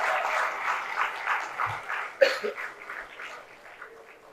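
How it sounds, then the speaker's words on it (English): Audience applause at a university's first convocation, a soft, distant wash of clapping from a large hall with a cough partway through, gradually tapering off. "Devadiga, Vatsal Gosalia, Please applause for the batchmates"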